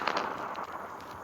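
An in-game explosion in the sandbox game WorldBox, set off underground, heard as a dense, sustained crackling burst of noise with several sharp pops, steady and fairly loud throughout with no speech.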